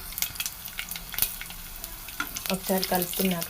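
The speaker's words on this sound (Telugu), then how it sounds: "కొంచెం ఆవాలు, కొంచెం జీలకర్ర, కొంచెం శనగపప్పు ఇవన్నీ వేసుకున్నాక ఒకసారి కలుపుకుందాం" Mustard seeds, cumin and chana dal fry in hot oil, a quiet crackle that swells into brisk, rhythmic stirring scrapes toward the end, with no voices.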